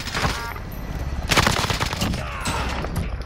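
Automatic gunfire rattles in Call of Duty Modern Warfare, rapid continuous bursts of close, loud shots with a sharper, heavier volley about midway through.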